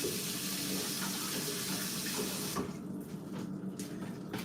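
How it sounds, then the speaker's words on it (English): Tap water runs steadily into a sink while hands are washed in a home kitchen during cooking, a continuous close splashing hiss that thins slightly toward the end. "Always wash your hands"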